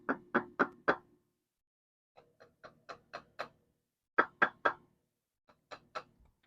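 Sharp knocks on pavers set in outdoor steps, including a loose one, come in separate groups of three to five raps with pauses between, some louder and some duller, without talking.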